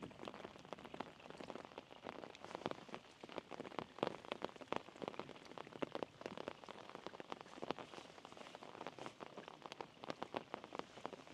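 Steady rain patters on a canal surface and an umbrella, a dense, even hiss of close drops with scattered louder taps throughout, no voices.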